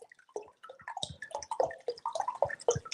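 Filtered water poured from a container for a homemade apple cider vinegar batch, splashing and gurgling steadily at close range for about three seconds, with no talking.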